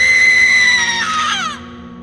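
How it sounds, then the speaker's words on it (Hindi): A woman's long, high scream in a horror-story scene, wavering and then bending downward before cutting off, sounding somewhat distant over a low ambient drone. "दूर से किसी औरत की चीख सुनाई दी।"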